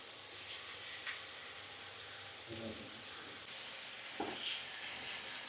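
Thirachi fish sizzling and frying in a pan, a soft steady hiss with a few faint clinks of stirring, low and close.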